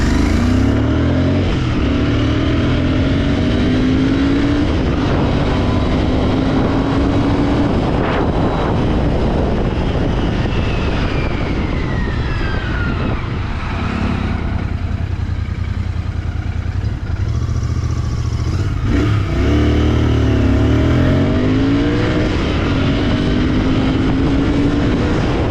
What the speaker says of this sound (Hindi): आप चेक करो बाइक की अभी सेकंड्स चेक करो कि कितनी देर में बाइक कितनी स्पीड पकड़ती है